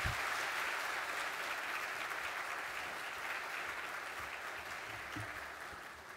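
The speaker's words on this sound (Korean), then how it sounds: "우리 엄기영 목사님 나오실 때 우리 큰 박수로 환영하도록 하겠습니다." A church congregation applauds in warm welcome as the pastor comes forward during a Sunday service, a dense, sustained clapping from a full room that slowly thins toward the end.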